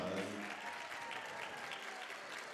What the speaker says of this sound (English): So let's hear that applause.